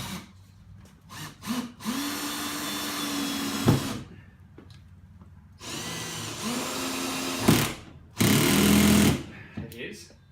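Cordless power drill driving a screw at an angle into a timber stud while fitting overhead garage shelves, several loud whirring bursts of varying length with pauses between, a person talking in the gaps.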